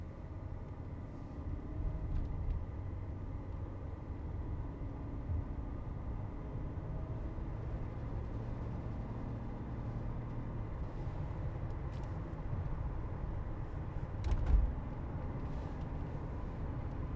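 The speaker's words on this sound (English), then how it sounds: "I'm going to hit the gas pedal." A 1999 Mercedes-Benz accelerating, its engine a steady low rumble with road noise, sustained and even from start to finish with one brief louder bump near the end, no talk.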